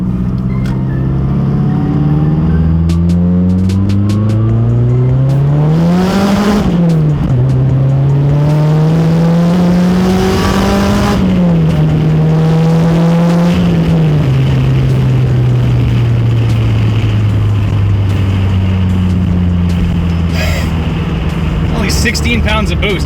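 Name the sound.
Mazdaspeed 3 with BNR S5 turbo accelerating in second gear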